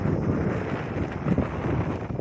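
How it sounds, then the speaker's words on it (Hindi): Strong wind blowing over the top of a dam, a continuous low rushing buffet with gusty swells, loud and close with no talking. "बहुत ही शानदार हवा चल रही है"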